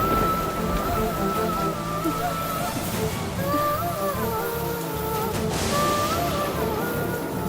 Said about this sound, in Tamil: இடி இடிச்சிட்டு பயங்கரமா மழை பெய்யுது.